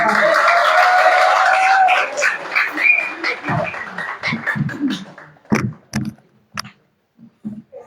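Audience applause at a mushaira poetry recital, a sustained wash of clapping that fades after a couple of seconds into sparse, isolated claps while a speaker talks.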